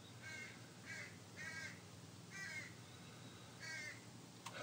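A crow caws five times in a slow, evenly spaced series, faint and somewhat distant against a quiet background hum.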